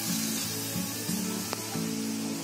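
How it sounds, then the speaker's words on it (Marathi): Semolina (rava) roasting over medium heat in a pan with fried onion and green chilli for savory karanji filling; a soft continuous sizzle broken by regular scraping strokes of a spatula. "कलर येईपर्यंत रवा चांगला भाजून घ्यायचा मिडियम गॅसवर"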